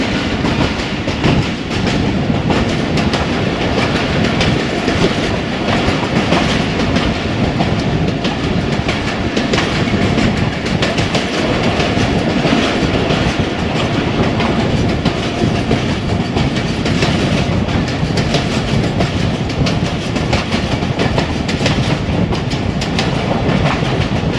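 Ravi Express passenger train on a classic branch line near Shorkot, with wheels clattering over the track in a continuous, loud rhythmic clickety-clack and rumble heard from inside the carriage.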